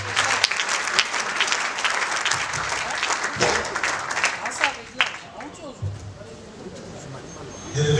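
A church congregation applauds and cheers, with loud clapping and scattered shouts, and people talk over it.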